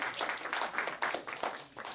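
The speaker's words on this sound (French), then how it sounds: "on peut applaudir pour ça quand même." Audience applause at a talk, fairly faint and somewhat distant clapping with an uneven rhythm that rises and dips over a couple of seconds.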